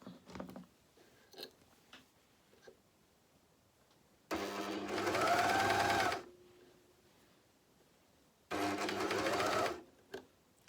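A JUKI MCS-1500N coverstitch machine with a hemming attachment sewing a hem, running in two steady bursts of about two seconds each, close and clear, with quiet handling sounds between them.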